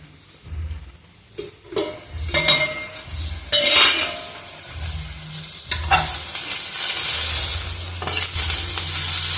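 Ridge gourd fries in a pan while a spatula stirs it, scraping and clinking against the metal in irregular strokes over a continuous close sizzle.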